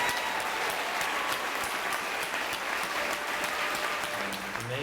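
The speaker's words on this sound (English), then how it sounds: "Get a round of applause." Audience applause for newly sworn-in United States military recruits at a salute to veterans, troops and families, dense steady clapping from a large crowd throughout.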